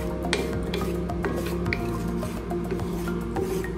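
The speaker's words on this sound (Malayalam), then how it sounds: "ലോ ഫ്ലെയിമിലാക്കി വെക്കുക. എന്നിട്ട് നന്നായിട്ട് മിക്സ് ചെയ്ത്" Egg makhani masala is stirred in a pan over a low flame, giving a continuous close squishing and scraping of thick gravy against the pan, with no talk.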